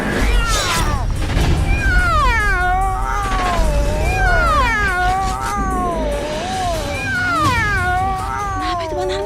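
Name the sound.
black cat meowing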